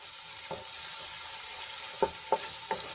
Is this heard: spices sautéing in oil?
yes